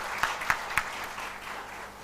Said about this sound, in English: you can still have a louder round of applause for people out here